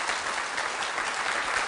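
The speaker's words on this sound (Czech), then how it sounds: "Takže vás poprosím, aby to byl aplaus" Applause from a circus audience welcoming a speed juggler, an even, continuous patter of many hands clapping at moderate loudness with no pause, heard alone.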